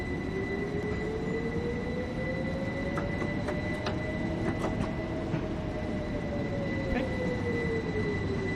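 A Class 377 electric train in Train Sim World 2020 rolls along with a steady rumbling drone and a rising then falling motor whine, with scattered clicks and faint wheel squeals over the track noise.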